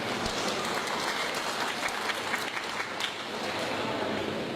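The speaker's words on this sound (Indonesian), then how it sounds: "Tepuk tangan Bapak Ibu rahimakumullah" An audience at an Islamic sermon claps loudly for a few seconds, a dense, sustained applause that swells and eases without talk over it.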